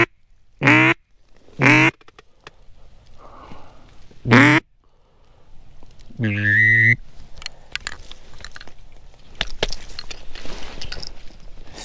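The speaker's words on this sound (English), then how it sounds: "There's a duck up, hoping for a mallard." Mallard or redhead duck quacks on a hunting trip from a kayak, a few loud separate calls early on with a longer call midway, over outdoor wind and water noise.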